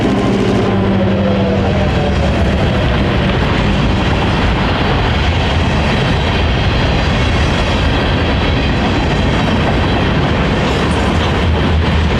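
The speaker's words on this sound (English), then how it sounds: "We would follow the train over the former seaboard trackage west towards Zellwood, paralleling the main line on US 441." A Florida Central Railroad train rolls along former Seaboard trackage near Zellwood, a loud, steady rumble with rhythmic clickety-clack of wheels on rail joints and faint horn tones, continuous throughout with no talk.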